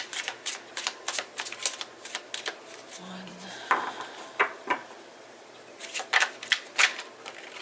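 Tarot cards shuffled close by in quick clattering bursts, a short pause in the middle, then another rapid flurry of shuffling.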